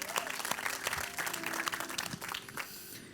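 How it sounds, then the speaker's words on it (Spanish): A church congregation claps during a Spanish-language sermon, a fairly faint, steady round of applause with scattered individual claps and a few murmurs underneath. "Le damos un fuerte aplauso a la palabra de Dios en el día de hoy."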